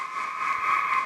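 A driving synth noise instrument built from a vinyl sample of a scream, a sustained, bright, buzzing tone with a steady band-like drone, held evenly throughout a short burst with no voices.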